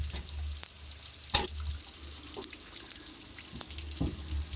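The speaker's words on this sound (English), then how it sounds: "we got a leak in that one too" Water hisses and sprays steadily from a leaking hose on a traveling irrigation sprinkler in a hay field, a loud continuous rush with a few brief knocks and no talk.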